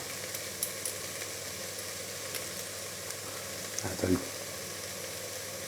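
Ground cumin and coriander hitting hot oil in a pumpkin soup pot, a soft continuous sizzle with a brief louder crackle and stir near the end, and a short spoken remark.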